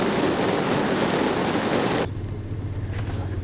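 Heavy rain pours down in a steady broadband wash, loud and continuous for about two seconds before dropping abruptly to a softer patter over a low hum.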